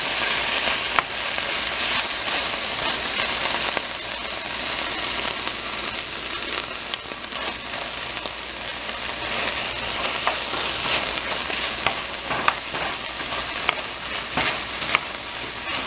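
Chicken stir-fries in a hot pan with a loud, continuous hiss and crackle, broken by frequent scraping stirs and clatter throughout, with no talking.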